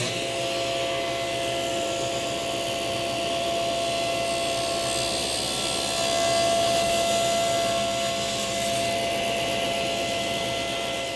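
A table saw blade spins through wood cutting a kerf, a steady loud whining drone with sustained tones and no pauses, near and alone.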